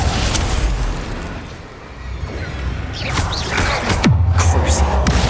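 Bombarda and Confringo spells in the game Hogwarts Legacy burst with loud booming blasts and crashing debris, mixed with shouted voices and a dense game soundscape.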